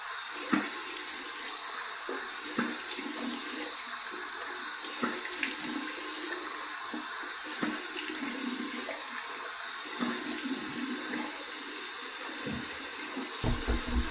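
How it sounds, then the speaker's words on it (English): Warm water runs steadily from a tap for a face rinse after a wet shave, a continuous close rushing stream with small splashes and hand movements, no talk. "Here's my warm water rinse."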